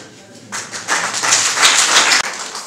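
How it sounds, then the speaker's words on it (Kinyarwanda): Applause breaks out from the guests at a Rwandan wedding ceremony, a dense burst of clapping that swells for about two seconds after a quiet start and then cuts off abruptly. "Niba mubishyigikiye mwakomera amashyi."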